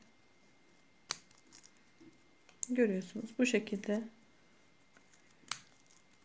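Scissors snip through yarn wound on a pompom maker, giving a few sharp close cuts spread across the stretch while someone speaks Turkish between them.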